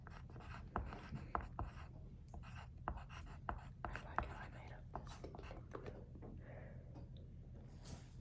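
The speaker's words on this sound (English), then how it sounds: "now just write dessert" Pen scratching across paper while writing out a rough-draft Father's Day dinner menu, soft, close, intermittent strokes with a low background hum and occasional whispering nearby.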